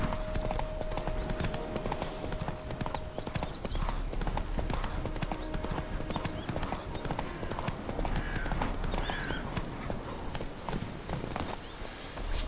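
Horse hooves clip-clop steadily at a riding pace in The Witcher 3 game, a continuous rhythmic clatter heard under faint game ambience with no talk.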